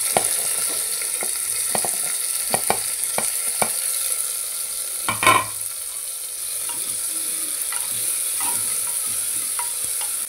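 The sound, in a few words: tomatoes sautéing in oil in a cooker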